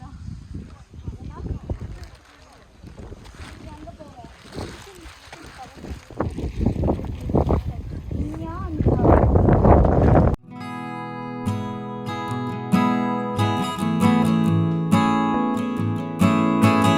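Wind gusts roar across the Vayalada hilltop viewpoint and grow louder in rushes, then music takes over for the second half.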